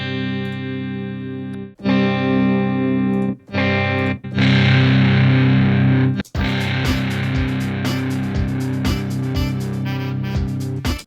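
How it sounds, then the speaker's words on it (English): A sample pitched straight down in Logic Quick Sampler plays through Amp Designer distortion: thick, gritty sustained chords cut off and restart in several bursts, then a steady distorted bed with a repeating low pulse. "just pitch this straight down. Sounds quite cool. And let's add some amp designer."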